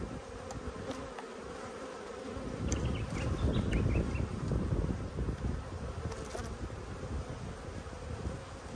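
Agitated honey bees in an open Australian backyard hive produce a dense, swelling buzz close by, rising and falling over several seconds, with individual bees whining past and no voices.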